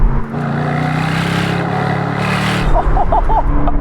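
A sports car's engine drones loudly and steadily from inside while driving, with a shift in tone near the end as a voice briefly speaks over it.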